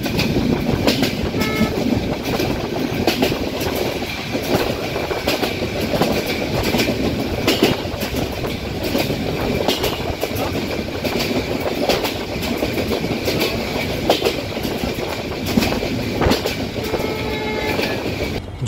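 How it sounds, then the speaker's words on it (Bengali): An intercity train in Bangladesh runs along the rails with a steady, close rumble and rhythmic clickety-clack of wheels over joints, continuous throughout with no voices. "আজ শুধু ট্রেন ভ্রমণটাই আমরা উপভোগ করব।"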